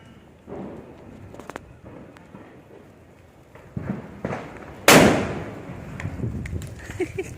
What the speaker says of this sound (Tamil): இப்போ போயிட்டு வெடி வெடிக்க வேண்டியது தான்.